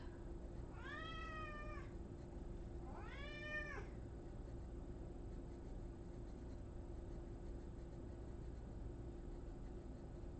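A female cat meows twice in quick succession near the start, two clear rising-falling calls over a steady low background hum, then the rest is quiet.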